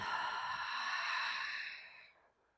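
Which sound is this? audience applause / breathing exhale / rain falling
breathing exhale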